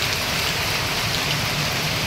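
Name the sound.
rain falling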